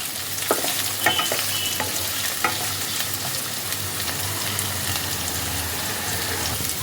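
Green chilies and paneer being stirred in hot oil, giving a steady close sizzle and frying hiss with occasional scraping clicks of a spatula against the pan.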